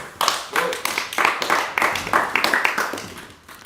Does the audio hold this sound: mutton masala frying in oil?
no